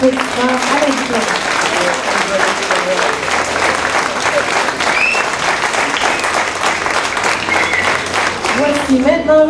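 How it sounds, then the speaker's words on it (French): Sustained applause from a crowd at a 2017 graduation ceremony greets a graduate, a dense, steady clatter of clapping filling the whole stretch, with a voice speaking briefly at the start and end. "Chaleureuse main d'applaudissements à la diplômée."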